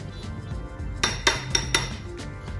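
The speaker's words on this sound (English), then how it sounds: "Just mix it well with the oatmeal so that it gives it a nice and a buttery flavor" A spoon clinks against a bowl while stirring peanut butter into oatmeal, a handful of sharp metallic taps in quick succession over a soft background hum.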